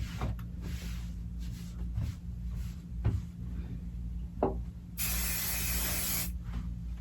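Short hissing bursts of basting spray on a quilt edge, with a long sustained spray toward the end, set among soft handling and smoothing sounds of fabric.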